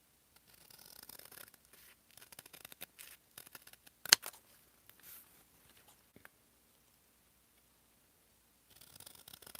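Scissors snip paper strips for a junk journal in short, quiet, scattered cuts, with one sharper snap partway through and brief silent gaps between snips.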